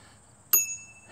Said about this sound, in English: The bell is a standard bell.